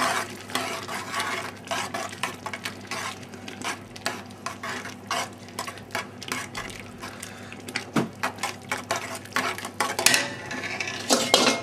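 Fresh tomato pasta sauce seasoned with salt and pepper being stirred in a pan, with steady scraping and clinking of a utensil against the pot over a soft sizzle, close and continuous with no talking.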